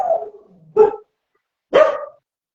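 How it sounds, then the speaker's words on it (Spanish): A pet dog barks indoors: three separate sharp barks, the first trailing into a short whine, close and loud with quiet gaps between them. "es mi perra que está ladrando"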